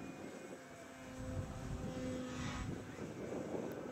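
A flying foam model aeroplane drones steadily overhead, a thin propeller whine that swells slightly louder and then holds, heard outdoors with no talk.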